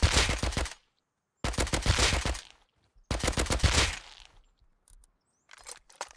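Silenced gunfire in the game Rust: three bursts of quick, rapid shots separated by short silences, followed by a few fainter scattered shots near the end.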